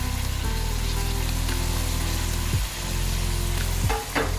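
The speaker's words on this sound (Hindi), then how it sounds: "अभी हम इसमें ऐड करेंगे जो हमारे वेजिटेबल्स थे, लॉन्ग बीन्स थी और आलू थे" Meat frying in a pan as long beans and potatoes are tipped in, a loud steady sizzle with a low hum and a couple of clattering stirs near the end, no talk.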